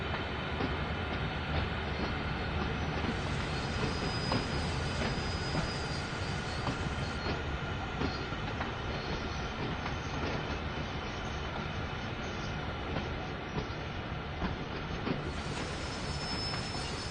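A Union Pacific locomotive in the Train Sim World game runs on a Cheyenne refinery route, producing a steady, dense rumble of rolling wagons and clattering wheels with faint squeals, continuous and without talk.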